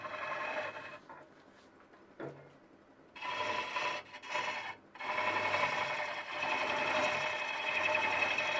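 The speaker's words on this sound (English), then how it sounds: "And you can say that's taking some really big shavings out." A turning tool cuts big shavings from a hollow walnut vase spinning on a lathe, giving loud, close scraping and rasping bursts separated by short pauses, with no talk.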